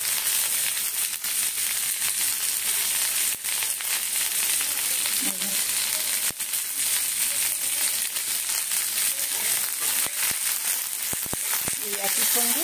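White cumin seeds frying in hot oil give a steady, bright sizzle throughout, close and fairly loud, with a few scattered pops and stirring clicks.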